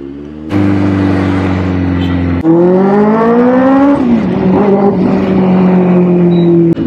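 A loud Benelli 600i motorcycle engine idles with a deep, rumbling throb, then is revved hard several times with the pitch climbing and falling, close and dominant, on a street in Jaipur.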